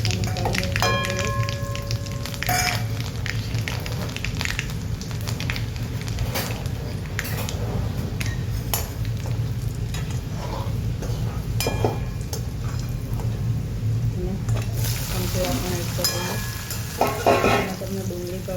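Mustard seeds, cumin, asafoetida and garlic cloves sizzling in hot oil, a steady, dense frying hiss held close and loud throughout, with occasional stirring clatter and faint pops and no talk.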